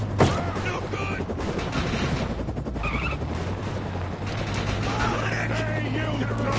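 Gunfire in the sci-fi shooter game Defiance, a steady, dense stream of automatic shots and blasts with a sharp crack at the start, voices shouting under the constant barrage.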